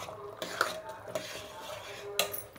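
A spoon stirs bisi bele bath in a metal pot, with a few distinct clinks and scrapes against the sides amid soft background noise.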